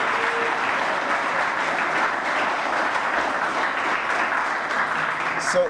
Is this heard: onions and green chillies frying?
no